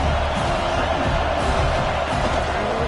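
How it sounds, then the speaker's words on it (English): A home crowd at a college football game featuring the Mountaineers cheers loudly and steadily from a distance, a dense, sustained roar filling the stadium with no pause. "how nice is it to have the home crowd going absolutely bananas?"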